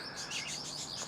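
Small birds chirp and tweet in quick, overlapping bursts, fairly close and moderately loud, beside a parked 1995 Toyota Celica GT-Six undergoing bodywork, with no voices over them.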